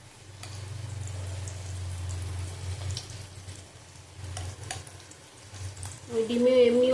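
Potato and fish roe fritters frying in hot oil, a steady close sizzle that fades and returns, with a brief stir and clatter toward the end.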